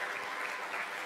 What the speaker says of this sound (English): let's give the Lord a praise clap for that